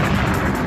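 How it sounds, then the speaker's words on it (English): A Scud missile site explodes after an F-15 bombing strike, a loud, sustained blast that rumbles continuously with heavy low-end roar throughout. "As they come off target, a mighty explosion rocks the Scud site."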